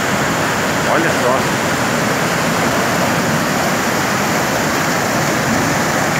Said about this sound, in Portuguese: esse é o Ribeirão Grande, após a chuva de hoje